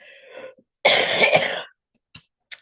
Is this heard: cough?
yes